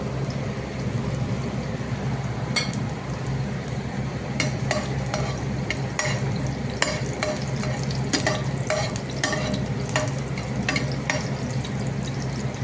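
Garlic sizzles steadily in hot oil in a pan while a spoon stirs it, giving a continuous soft frying hiss punctuated by irregular sharp scrapes and clinks against the pan.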